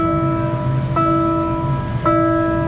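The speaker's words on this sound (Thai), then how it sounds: "ตอนนี้เสียงเครื่องการดังขึ้นครับขบวนรถโดยสารกำลังจะมา" A steady electronic railway level crossing warning chime sounds continuously at the Rama 6 crossing in Bangkok, its tone shifting twice, ringing loud and near with a low hum beneath.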